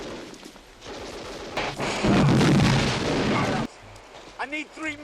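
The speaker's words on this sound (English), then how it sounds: "I really appreciate the explosions in this film as well because they're very realistic." Battlefield explosions and artillery fire from the 1986 war film Platoon, loud booming blasts building to a sustained roar before cutting off, followed by shouting voices.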